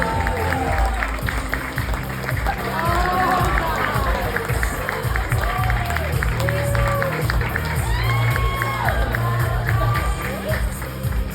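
A comedy show crowd applauds and cheers loudly and steadily, with whoops and shouts layered over dense clapping throughout.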